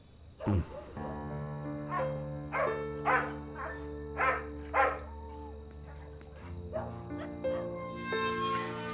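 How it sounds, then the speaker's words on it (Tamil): A dog barks in a scene from a Tamil-dubbed film, a series of about six evenly spaced barks over a sustained musical drone, with no talking. "இங்கே நாய் குலைக்குது"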